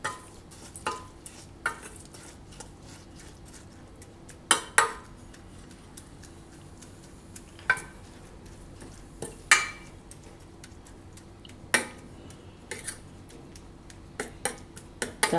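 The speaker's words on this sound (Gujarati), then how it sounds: "તો દૂધ થોડુંક નાખીને એને મિક્સ કરી લેવું આ રીતે." A spoon stirs oats and milk in a bowl, giving a dozen or so sharp, irregular clinks against the dish over a quiet background.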